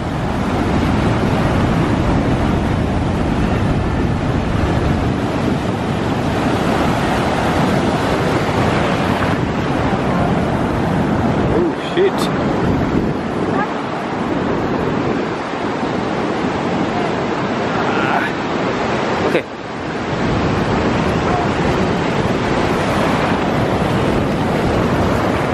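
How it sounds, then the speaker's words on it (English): Ocean waves surge and crash at the Waterblow rock outcrop in Nusa Dua, Bali, a loud, steady roar of surf with heavy wind buffeting the microphone and brief lulls between surges. "Whoa, look at the pace this water's coming at."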